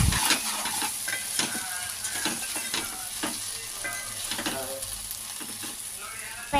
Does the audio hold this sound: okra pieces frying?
yes